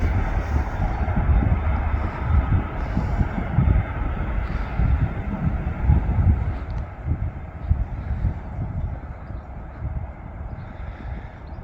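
A large airliner takes off at Manchester Airport, heard as a steady, broad, rumbling jet roar from a viewing park, heavy and continuous with some wind noise and no talk.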